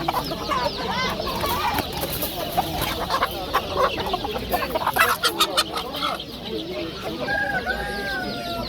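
Roosters and hens cluck and crow in a busy Uzbek poultry bazaar, dense overlapping bird calls throughout with a clear crow near the end, while someone talks over the crowd noise.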